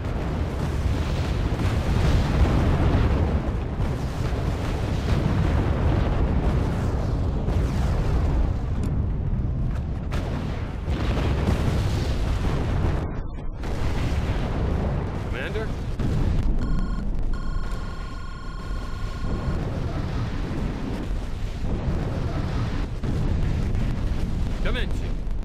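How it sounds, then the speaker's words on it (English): Artillery shells crashing into the ground in the R.U.S.E. strategy game, a dense continuous rumble of heavy blasts over a large battle, loud and sustained, with a few tonal effects near the end. "feel every single shell as it hits the ground"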